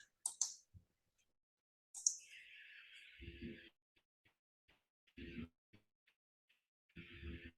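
Sharp computer mouse clicks, two or three crisp, close taps spaced apart by quiet, with a few brief stretches of other low noise in between.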